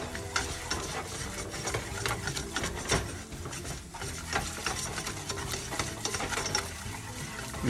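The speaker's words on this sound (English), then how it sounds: "you want to whisk it for about a minute until everything's smooth" Gluten-free flour being whisked into a pan on medium-high heat to build a roux, a steady busy scraping and stirring with a light sizzle underneath, continuous and close, with no talking.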